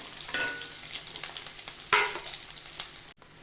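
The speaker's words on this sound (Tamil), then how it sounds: "வெங்காயம் பூண்டு இஞ்சி வரமிளகாய் இப்போ வந்து ஓரளவுக்கு நமக்கு வெங்காயம் வதங்கட்டும்" Onion, garlic, ginger and dried red chillies sautéing in a pan for a fish curry, a steady close sizzle broken by a few sharp scrapes and knocks of a stirring spoon.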